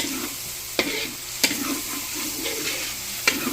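Garlic sautéing in a hot pan for ginisang mungo, a steady close sizzle broken by three sharp clicks of a utensil stirring against the pan.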